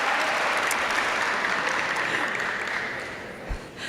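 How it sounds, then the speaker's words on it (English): An audience at an 8th grade promotion ceremony claps in a thick, sustained burst of applause that slowly thins and fades toward the end, with a faint thump near the close. "There's going to be a lot of clapping."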